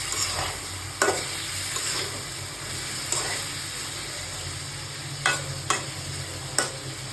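Country chicken frying in hot oil gives a steady, close sizzle, with occasional sharp scraping strokes as the meat is stirred in the pan.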